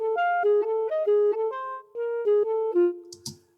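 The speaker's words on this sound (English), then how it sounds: "I have our library La Clarinet on rows loaded, and I just played a quick phrase in" A clarinet phrase from the La Clarinet sample library, a quick run of sustained, reedy notes that step up and down with short gaps between them, ending on a held low note and a brief click.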